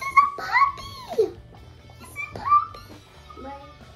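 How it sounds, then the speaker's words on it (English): A small puppy whimpers and yelps close by in several short, rising whines separated by brief pauses, with no talk over them. "It's a cute little puppy."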